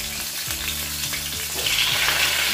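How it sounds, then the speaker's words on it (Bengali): Snakehead fish head fries in hot oil with a loud continuous sizzle and crackle, close by and intensifying toward the end, with stirring sounds and no talking. "প্রথমে শোল মাছের মাথাটাকে ভেজে নিচ্ছি।"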